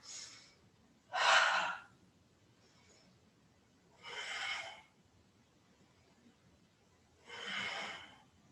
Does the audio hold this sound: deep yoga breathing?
yes